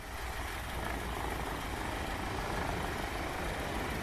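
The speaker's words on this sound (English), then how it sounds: "I hear a jet, but I don't see him." A jet aircraft passes unseen overhead, a steady broadband roar that fills the whole clip at moderate, even loudness, with no talk.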